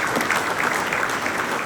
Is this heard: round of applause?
yes